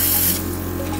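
A makeup airbrush compressor on its stronger setting blows a steady, close, loud hiss of air over a low mechanical hum and rapid pulsing, with no talking.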